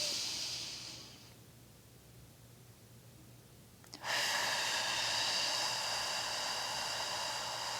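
Deep yogic pranayama breathing heard up close: a long soft airy inhale or exhale fades out, then after a brief pause a strong, hissing breath starts abruptly and holds steady.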